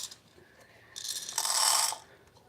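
A DF64 coffee grinder grinds coffee beans beside an espresso setup. After soft mechanical clicks, a short, bright, whirring grind swells and stops within about a second, close and moderately loud.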